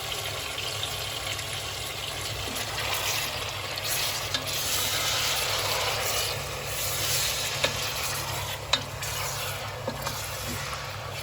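Meat frying in a pan for Elazığ gömbe, a steady close sizzle lasting throughout with faint scrapes and a few small clicks of utensils.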